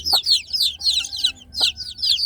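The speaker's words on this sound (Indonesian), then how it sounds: "induknya ini membimbing anak-anaknya untuk" Free-range village hen clucking to guide her chicks to eat, a near, steady run of soft clucks overlaid by the chicks' rapid high peeping, with a couple of low calls.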